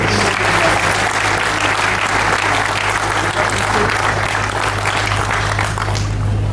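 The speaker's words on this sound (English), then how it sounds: "she definitely deserves another round of applause" A large audience claps steadily for someone speaker at a policy gathering, a thick continuous wash of hands lasting throughout, loud and near, over a faint constant hum.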